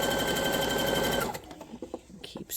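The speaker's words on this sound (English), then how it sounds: "Keep sewing. You're going to keep pulling the fabric through." A sewing machine stitches fabric for a scrunchie, a loud, steady rapid whir for over a second before stopping, followed by quieter handling clicks and rustles.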